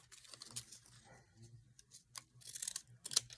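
Scissors snipping a zigzag edge into paper for an altered book craft, a run of close, crisp cuts clustered toward the end, with a low voice murmuring faintly underneath.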